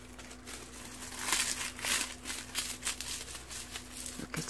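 Cut sheets of dried laver being packed into a plastic bag give off faint, close crinkling and rustling in irregular bursts, with a soft steady hum underneath.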